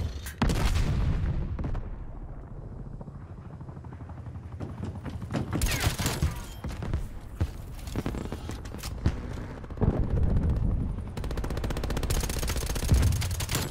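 The AMP63 SMG fires in Black Ops Cold War multiplayer, in several separate bursts of rapid shots with quieter stretches of background game noise between them.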